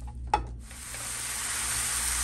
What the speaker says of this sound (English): so just let your sausage cook